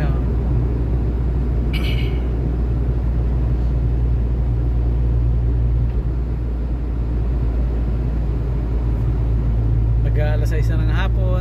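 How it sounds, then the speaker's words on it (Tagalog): City street traffic in Manila on Harrison, Malate, a constant loud low rumble of idling and slow-moving vehicles heard from inside or beside a car, with brief higher-pitched engine or horn tones near the start and end. "Ayan o, traffic na o."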